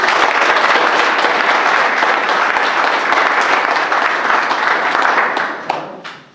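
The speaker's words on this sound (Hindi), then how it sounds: "मैं चाहूंगा जोरदार तालियां" Loud, sustained applause from an audience at a company event fills the room without a break, then tapers off near the end.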